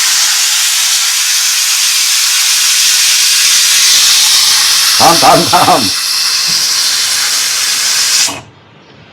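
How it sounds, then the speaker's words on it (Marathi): A loud, sustained steam hiss from a pressure cooker whistle, cooking raw mangoes, blows for several seconds, with a brief voice mid-way, then cuts off abruptly. "इथे कुकरच्या शिट्या घेतोय ना"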